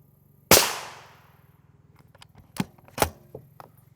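A single sharp gunshot rings out against an AR500 steel armor plate, with a loud decaying impact, followed a couple of seconds later by fainter metallic clinks and knocks.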